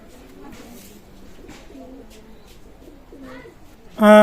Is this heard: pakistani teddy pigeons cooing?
yes